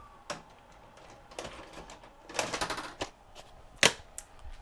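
A Toshiba SD-V295 DVD/VCR combo ejects a videotape, heard as a series of close mechanical clicks, whirs and clunks with a sharp final snap, fairly quiet and without speech.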